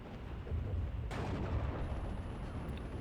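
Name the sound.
guns firing in Steel Division video game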